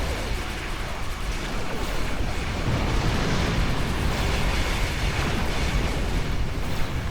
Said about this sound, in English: I like flying through explosions